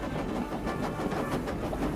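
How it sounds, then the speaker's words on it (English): A steam train hauling a heavy load of coaches rumbles steadily, with a dense, continuous low roar and faint rhythmic chuffing under a narrating voice. "Now the whole weight of the train, with Mike as well, pulled on Jock's coupling"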